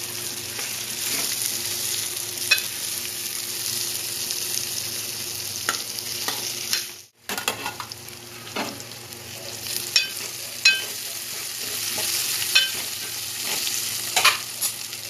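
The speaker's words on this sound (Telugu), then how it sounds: "బోడ కాకరకాయ ఫ్రై అవుతున్నాయి, ఆయిల్లో ఫ్రై అవుతున్నాయి." Pieces of spiny gourd (boda kakarakaya) fry in hot oil with a steady, close sizzle, broken by occasional stirring scrapes and crackles and a brief dip midway.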